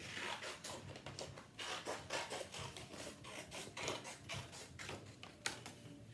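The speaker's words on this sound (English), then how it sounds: "So what I'm going to do is I'm going to cut a wavy line" Scissors cutting a wavy line through blue paper, a quiet rapid series of rasping snips and rustles in steady rhythm, close but faint.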